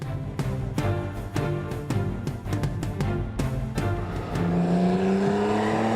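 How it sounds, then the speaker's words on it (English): A Porsche sports car engine roars at a Southern California driving center, revving through rapid gear shifts with sharp repeated bursts, then climbing into a sustained rising whine. "The roar of the engine says it all."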